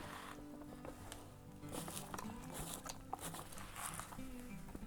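Finnish dry ration being stirred with water inside its plastic pouch, giving soft crinkling rustles and wet squishing patters at close range, steady and quiet, with no speech.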